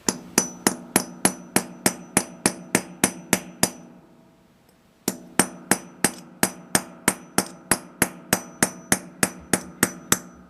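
A hammer strikes a chisel during assembly of a 4L80E transmission, loud sharp metallic blows in a steady fast rhythm, a run of about fourteen, a one-second pause, then another long even series, close up with no voices.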